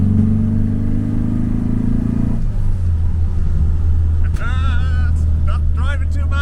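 A classic Volkswagen Beetle with a fuel-injected engine on the road, a loud low drone under steady cabin noise as the engine note climbs, then drops with a gear change, while someone talks over the sound.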